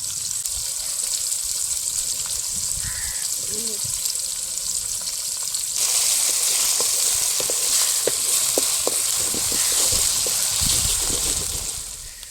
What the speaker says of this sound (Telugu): ఇప్పుడు టమాటా ఎర్రగడ్డతో నూనెలో బాగా ఉడికింది ఇప్పుడు టమా అల్లం వెల్లుల్లి పేస్ట్ వేస్తున్నాం